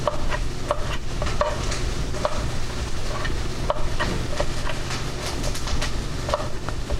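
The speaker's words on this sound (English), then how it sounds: "You can hear a stir fry over there cooking quite well." Stir fry sizzling steadily in a pan, a continuous crackling hiss with occasional sharper pops and clatters, heard at moderate distance.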